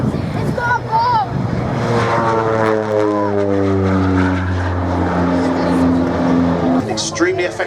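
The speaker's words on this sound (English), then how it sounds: "An extremely effective battlefield support aircraft against both conventional and guerrilla forces." A Bronco OV-10B twin-propeller aircraft flies past at an airshow, its loud droning engines shifting in pitch as it passes, with a commentator talking over the noise and crowd murmur.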